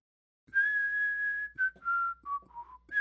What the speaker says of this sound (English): whistle for a minute while I think of something